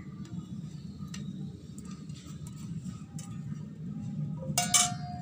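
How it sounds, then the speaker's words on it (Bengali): A knife cuts through pointed gourd (potol) on a board in a home kitchen, giving faint, irregular ticking taps over a low steady hum, with one brighter clink near the end. "তো আপাতত এখন পটল কাটছি"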